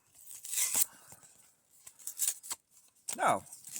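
Cardboard packaging of an Ozark Trail knife is torn open in several short ripping bursts separated by pauses, close and fairly quiet.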